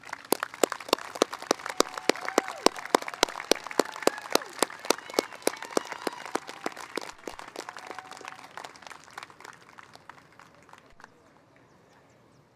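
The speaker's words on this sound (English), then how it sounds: "a round of applause" Scattered applause at a school graduation: sharp individual claps ring out at a fairly quick pace, then thin out and fade to quiet near the end.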